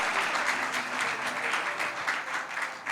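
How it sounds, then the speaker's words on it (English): An audience at a convention claps steadily and loudly throughout, a dense continuous applause without voices. "I think we can clap a little louder and harder."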